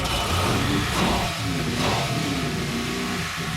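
A 570-horsepower MasterCraft boat engine fires up and revs, its loud, throaty roar surging and then settling into a deep rumble with no talking over it.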